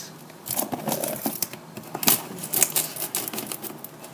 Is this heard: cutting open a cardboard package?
yes